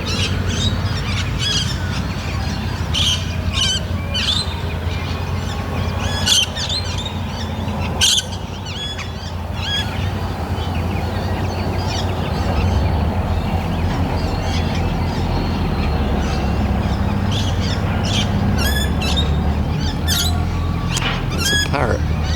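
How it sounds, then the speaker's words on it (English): A parrot squawks and calls from riverside trees at Morgan, its sharp repeated cries carrying over a steady low rumble and other bird chirps throughout. "Parrot. I don't know what sort. Can't see him properly."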